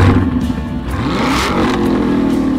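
A car engine revs loudly through its exhaust, a steady rumbling roar with a rising pitch sweep midway, close and continuous with no talk.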